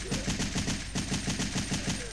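A machine gun firing in Resident Evil 3, a continuous rapid burst of evenly spaced, loud close shots sustained throughout.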